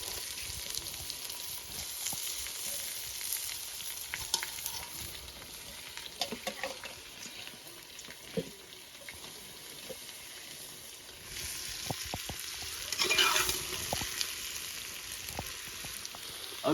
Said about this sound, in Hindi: इसको भी हम अच्छे से फ्राई कर लेंगे इन सारी चीज़ों के साथ